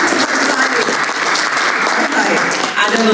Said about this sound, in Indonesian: Saudara beri tepuk tangan buat diri saudara sendiri.